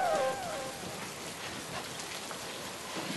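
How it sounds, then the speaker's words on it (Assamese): Steady rain falls in a flooded Assamese village, a constant, fairly quiet broadband patter with a faint tone at the very start and no talking. "আকৌ বৰষুণ এই বৰষুণটোৰ কাৰণে মানে"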